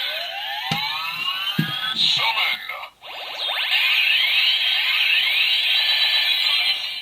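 Electronic sound effects from a Power Rangers Super Ninja Steel toy: shrill, warbling synthetic tones sweeping up and down like a siren, with a brief click and a short gap midway.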